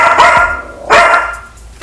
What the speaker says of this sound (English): Marty, one more, I'm gonna have to put your bark collar on.